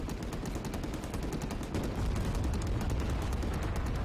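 Soldiers shooting in Men of War: Assault Squad 2, rapid repeated rifle and machine-gun fire in a close, continuous rattle of distinct shots that lasts the whole time, with no speech.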